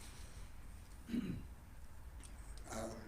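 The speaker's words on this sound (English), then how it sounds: "I'm coughing because I'm too close to the flowers" A single throaty allergy cough or throat clear rises briefly out of a quiet room near flowers, followed by another faint rasp near the end.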